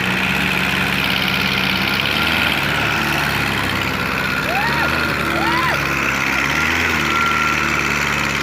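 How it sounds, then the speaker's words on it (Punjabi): A tractor engine labours under heavy load pulling a stuck trolley full of grain, a loud continuous drone with a couple of brief rising whines partway through. "ਕਿੰਨਾ ਟਰੈਕਟਰ ਆ ਜ਼ੋਰ ਪੂਰਾ ਲੱਗਣ ਡਿਆ"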